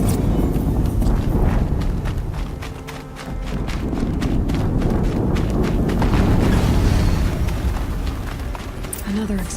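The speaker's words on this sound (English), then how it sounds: "Another explosion." An explosion in the Horizon Zero Dawn video game gives a heavy, sustained rumble with crackling debris and booming low end, loud and close, running under speech.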